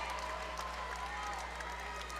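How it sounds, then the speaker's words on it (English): Crowd at a pro MMA event cheering and applauding a newly crowned 185-pound champion, a steady wash of distant clapping and shouts throughout. "And the crowd goes wild."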